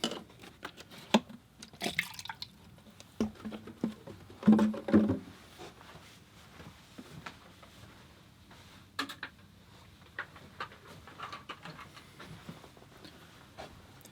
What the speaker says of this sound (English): I'm going to change the water here, and I'm going to add some more fresh, clean water.